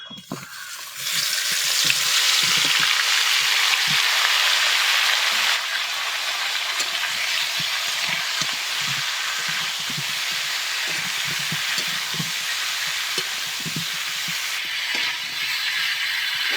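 Marinated cauliflower hits hot refined white oil and breaks into a loud, steady sizzle that quickly swells and holds as a dense, close frying hiss throughout, with no talking.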